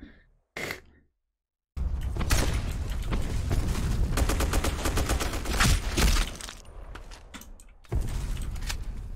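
Rapid bursts of AK-12 rifle fire in the shooter game Black Squad, a short shot early on, then a dense sustained volley of automatic fire and mechanical clatter lasting several seconds, pausing briefly before firing resumes.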